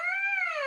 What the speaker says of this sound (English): the first thing I have to do is buzz my lips. So just like that into the mouthpiece.